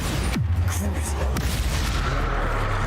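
A Bombarda explosion spell cast in Hogwarts Legacy, a sudden booming burst followed by a second hit, under continuous game sound and talk.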